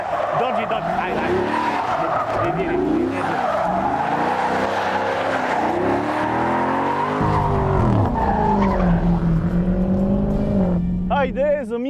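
A Dodge Challenger Scat Pack Widebody does a burnout on asphalt, with loud, sustained tire squeal and engine revs that rise and fall over about twelve seconds, ending in a sharp high screech.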